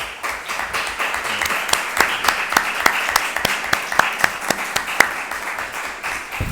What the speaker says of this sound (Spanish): Bien merece un aplauso de todos los vecinos y vecinas aquí presentes.